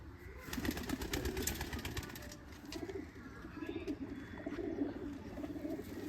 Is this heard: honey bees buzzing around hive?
no